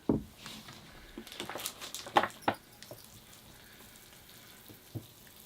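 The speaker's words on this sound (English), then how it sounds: "I can finally take my mask off and water the tree" Water poured onto an orange bonsai tree's soil gives soft irregular splashing and pattering, with a few brighter splashes standing out against an otherwise quiet background.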